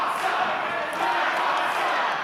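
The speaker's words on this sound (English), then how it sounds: "I think the crowd may be sensing trouble for Tootie. They're trying to rally behind her in any way possible" A wrestling event crowd rallying behind a wrestler, a dense continuous roar of cheering and shouting that stays loud and steady throughout.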